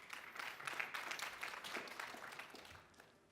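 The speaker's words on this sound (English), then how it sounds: "A round of applause, please, for the panelists." A conference audience applauds panelists at an industry discussion on new domain names, a soft, distant wash of clapping that fades toward the end.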